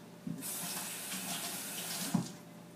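A plastic veggie spiralizer part is rinsed under a running kitchen tap, water hissing steadily into the sink with a couple of soft knocks as the piece is handled, close and quiet, no voices.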